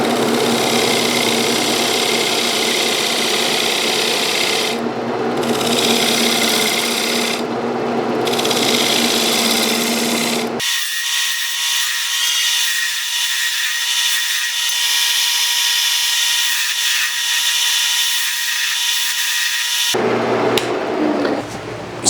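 A lathe turns a tenon on a green wood bowl blank, with a steady, loud scraping and rasping cut that runs continuously, dropping briefly in places and thinning to a higher whine partway through.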